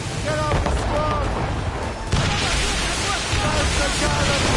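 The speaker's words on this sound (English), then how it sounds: "That's the cannon, boys!" Naval cannon fire in the game Assassin's Creed Rogue: dense booming blasts and battle noise at sea, with shouted voices over the barrage.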